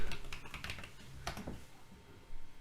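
Fast typing on a computer keyboard, a close, irregular patter of keystrokes with a few louder clacks and a short pause before another burst.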